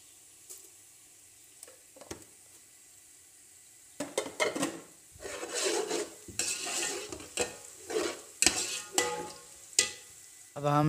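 Whole garam masala is dropped in among browned onions and fried in a pan, bringing quiet sizzling and sharp scraping and stirring strokes from a utensil against the pan, close and intermittent after a near-silent start.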